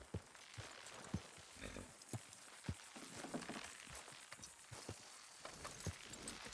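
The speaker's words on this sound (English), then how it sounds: "You loop that end around there. Horses will pull it clean down." Horses in Red Dead Redemption 2 straining as they pull a structure down, with irregular hoof thuds and clopping amid creaking and rustling, fairly faint.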